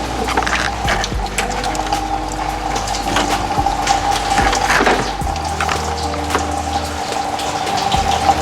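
Coolant draining from a Pontiac Grand Prix GXP 5.3 V8 into a drain pan, a steady trickling and splashing stream with a faint tonal hum and occasional knocks, close and continuous.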